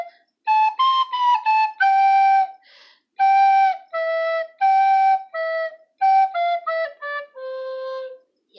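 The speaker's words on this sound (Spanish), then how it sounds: "Y hoy se las voy a mostrar con una flauta dulce." A children's song melody played on a recorder, clear breathy tones in a simple stepwise tune of short and held notes, solo and close.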